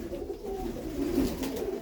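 Mykolaiv breed pigeons coo softly in low, throaty, rolling tones over a steady outdoor background hum.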